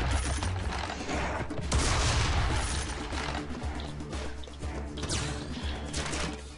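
Rocket launcher fire and explosions in the game Serious Sam 3, a dense, loud run of booming blasts and impacts, layered with game noise and no talking.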